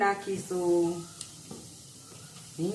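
Mustard seeds sizzle and crackle in hot oil for a Kathiyawadi bottle gourd curry, a soft steady hiss beneath a person talking nearby.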